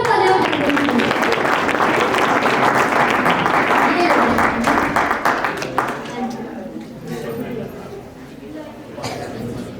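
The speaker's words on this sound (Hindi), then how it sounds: "जी जोरदार तालियां।" A crowd claps loudly at a children's quiz activity event, dense applause that holds strong for several seconds and then fades out, with a voice speaking over it.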